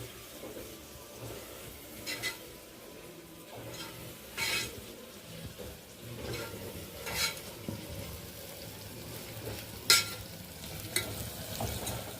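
Masala spices sizzle and fry in a pan for mutton keema curry, with a steady soft crackle and occasional sharper stirring scrapes, moderately quiet and close, with no talk.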